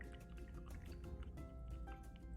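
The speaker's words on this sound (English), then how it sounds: "I'm going to put it into my water and stir." A brush stirs paint into a container of water, giving soft drippy, sloshing liquid sounds that are quiet and continuous over a low background.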